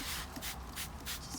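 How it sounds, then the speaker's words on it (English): A hand spray bottle mists water onto a small container of succulent seeds, giving several short soft spritzes in quick succession, close and fairly quiet. "So I'm going to spray it. I'm going to put that in there. With the spray bottle."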